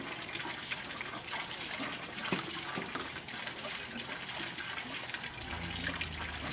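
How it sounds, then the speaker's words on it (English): A homemade water pump sends out a steady splashing flow of water that runs continuously without a break, with a low rumble coming in near the end. "And you got yourself a water pump."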